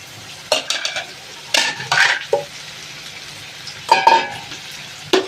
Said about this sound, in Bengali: এরম করে নাড়িয়ে নেব। নাড়িয়ে নিয়ে এটাকে নাড়িয়ে নেব।